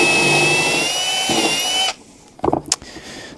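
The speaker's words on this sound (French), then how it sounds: "il faut que je perce un peu plus profondément" A power drill bores deeper into a pilot hole in wood to seat a screw head, running loudly and close for about two seconds before stopping, followed by a few faint knocks and handling sounds.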